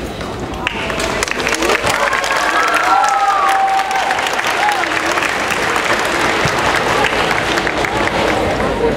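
An audience applauds after a sixth grade spring performance, loud sustained clapping from a crowd with a few whoops and cheers, and voices murmuring beneath it.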